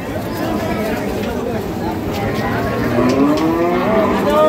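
Bulls suitable for farm rearing bellow at the Ambari cattle market, with deep, drawn-out moos rising near the end over a constant hubbub of crowd chatter and market noise close by.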